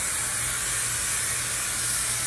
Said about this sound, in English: I think I need more hairspray.